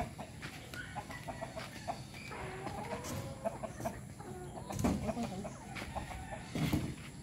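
Rhode Island hens cluck and murmur in a backyard flock, a soft, close chatter of scattered clucks with a couple of louder calls, and no talking.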